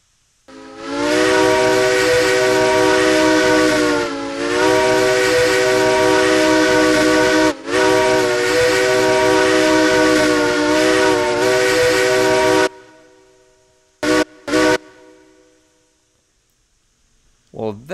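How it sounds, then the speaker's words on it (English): A video game steam locomotive whistle blows loud and sustained for about twelve seconds with one brief dip, then two short toots follow after a pause. "let's go ahead and get a whistle test of the new engine"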